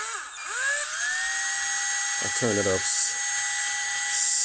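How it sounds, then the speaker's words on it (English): A power drill bores pilot holes into a rough, tough piece of scrap wood: a steady high motor whine rising as it spins up and holding throughout, with a brief voice speaking midway over it. "I'm gonna drill this pilot holes."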